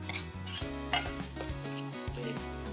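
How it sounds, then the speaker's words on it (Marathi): Dabeli masala sautéing in oil over low heat comes across mostly as soft clinks and scrapes of a spoon against a pan, quiet and close, with little audible sizzle. "हा मसाला आधी तेलात परतून घेऊयात"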